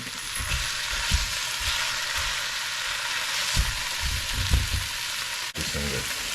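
Canned corned beef sizzles loudly in a hot pan, a steady close crackle of frying with occasional louder pops and stirring bumps, and one brief sharp knock near the end.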